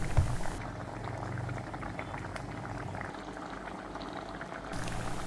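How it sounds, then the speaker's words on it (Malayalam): A potato masala curry bubbles and thickens in the pot, with close, continuous thick boiling and popping throughout. No one speaks. "അപ്പോൾ നമ്മുടെ കറി ആവശ്യത്തിനൊക്കെ തിളച്ച് നന്നായിട്ട് കുറുകി വന്നിട്ടുണ്ട്."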